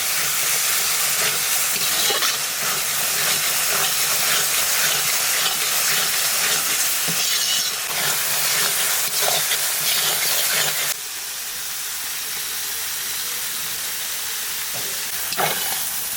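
Masala spice paste sizzles and hisses steadily in a pan, a loud broadband frying noise with occasional stirring scrapes, dropping slightly in intensity partway through.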